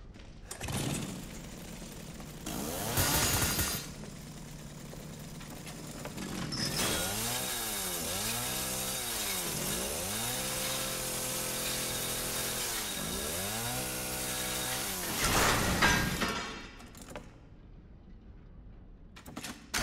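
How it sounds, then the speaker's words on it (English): A chainsaw in the horror video game Resident Evil 7 revs loudly, rising and falling in repeated throttle swells for several seconds before cutting off, with no talk. "Even get to keep the chainsaw for all that shit."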